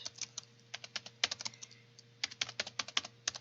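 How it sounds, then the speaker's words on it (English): Rapid keyboard typing in bursts of clacking keystrokes, close and fairly quiet, with a steady low hum underneath and no voices. "I don't know if you can hear my typing."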